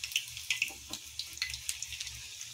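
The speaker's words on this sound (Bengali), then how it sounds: "ফটফট করছে, কারণ কি জল ছিল। খুন্তিটাতে জল ছিল বলছে।" Hot oil in a pan spatters and crackles because of water on the spatula, faint scattered pops and sizzles in an uneven patter at close range.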